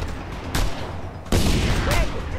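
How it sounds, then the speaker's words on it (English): Rapid, dense gunfire in a Just Cause 2 battle against snipers, a loud continuous fusillade that swells in two sharp surges, with no voices over it. "Snipers! Take them out, Scorpio!"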